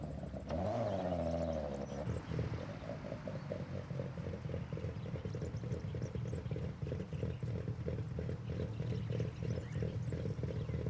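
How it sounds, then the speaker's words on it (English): A Nissan Skyline with its stock engine runs in the racing game Forza Horizon: a quick rising rev at the start settles into a loud, steady, rumbling drone, with no talking. "listen to the sound of this engine"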